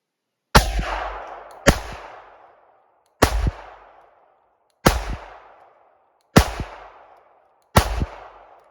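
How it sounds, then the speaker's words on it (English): Six loud, sharp shots from a red $200 Glock pistol ring out one at a time, spaced about a second or more apart, each followed by a booming reverberant tail, with no talking between them. "So let's go ahead and fire a few of these shots"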